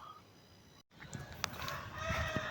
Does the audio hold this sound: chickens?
yes